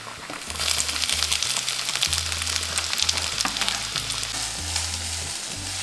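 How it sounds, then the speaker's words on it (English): Chopped garlic sizzles in hot olive oil, a steady close crackle and hiss of frying that runs throughout with a low background hum. "We will basically chop some garlic and add that to olive oil."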